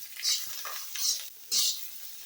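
Diced capsicum squares tossed into a hot kadai of kadai paneer, setting off bursts of loud close sizzling along with stirring scrapes, three distinct surges of frying.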